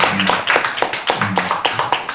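An audience claps for a jazz band at an arts concert, a short burst of fairly close, distinct hand claps with a loose, uneven rhythm.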